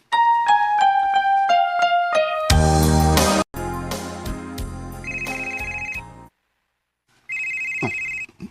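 A phone rings loud and close for an incoming call: a bright repeating ringtone melody, then a dense burst of tones, a pause, and a recurring electronic beeping alert.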